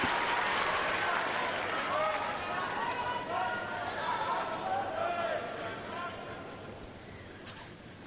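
Tennis crowd at the 2005 Australian Open applauds and cheers after Roger Federer serves for the match, a broad wash of clapping and excited voices that slowly eases, with a commentator talking over it.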